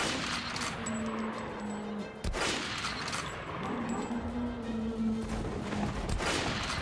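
Gunfire in the video game Metro Last Light cracks out in a few loud close shots amid dense continuous game noise and a low rumbling backdrop.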